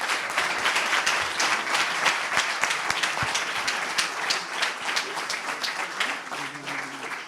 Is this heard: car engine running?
no